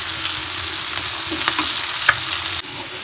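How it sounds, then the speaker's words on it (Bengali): Fish frying in a pan, a loud steady close sizzle with the scrape and clatter of pieces being turned over partway through, no talking. "আমার এক পাশ মাছ ভাজা হয়ে গেছে তাই আমি এখন উল্টাই দিচ্ছি"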